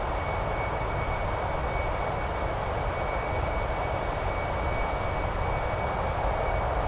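MD-11F freighter in Microsoft Flight Simulator: a loud, steady broadband jet roar with a faint high whine, unbroken from start to finish, with no voices.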